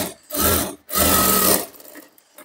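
A sewing machine stitches katori blouse fabric and lining in two quick motorized bursts, each a dense rapid whir, separated by a brief pause and followed by faint handling sounds.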